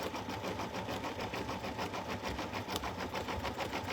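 A big-hoop embroidery machine runs with a fast, steady mechanical whirring and rapid stitching rhythm, close by and unbroken, with no voices.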